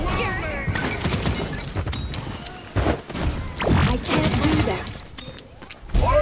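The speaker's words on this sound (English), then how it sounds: "Enemies are firing on us." Enemy gunfire in a point-control match on Frog Isle, played as Skye, with scattered sharp shots and impacts mixed into chaotic combat noise while a player talks over it.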